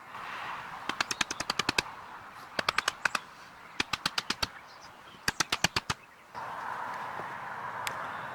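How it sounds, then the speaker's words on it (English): A mallet pounds in a garden bed, landing sharp, rapid strikes in several bursts of five to eight blows with short pauses between them, fairly close and alone. "Sometimes, just sometimes, a mallet is the best option."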